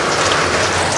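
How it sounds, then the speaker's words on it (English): Steady rain hisses outside as a dense, even wash of drops, close and constant with no talk. "it's raining outside right now"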